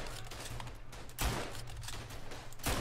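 Rifle shots from a French weapon in the WWI shooter Verdun, two sharp loud reports about a second and a half apart over a steady rumbling battlefield background.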